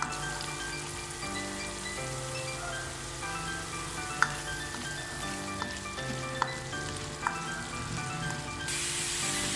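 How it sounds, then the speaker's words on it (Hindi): Garlic paste and cumin fry in oil with a soft, steady sizzle, while a tinkling melody plays in the background and a few light clinks sound. "जीरा शामिल करेंगे, लहसुन का पेस्ट, और इसको अच्छे तरीके से भुनेंगे।"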